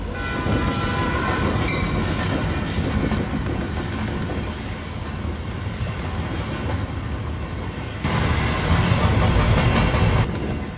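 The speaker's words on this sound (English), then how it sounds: "The ghost train is finally coming." A train, billed as a ghost train, rumbles close by with a steady, loud roar of rolling wheels and rail clatter, swelling louder near the end as it passes.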